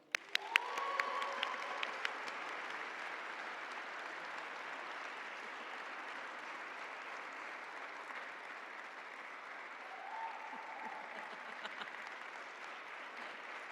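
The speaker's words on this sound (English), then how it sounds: "can we do a round of applause for Special Projects Manager Jeremy Legg?" Sustained applause fills a grand opening for the new Phoenix Police Department headquarters, starting with a few sharp claps and swelling into steady clapping from a crowd, with scattered whoops over the top.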